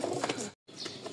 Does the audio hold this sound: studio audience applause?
no